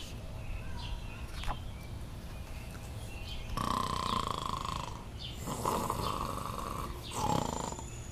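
Loud snores repeat in slow, heavy cycles, each a rasping rumble with breathy exhales between, close and alone against a faint background hiss.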